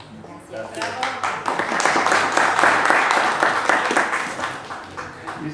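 Audience applause for a law graduate at a diploma and professional license ceremony, steady dense clapping from a crowd that holds for several seconds at moderate loudness, with some voices mixed in.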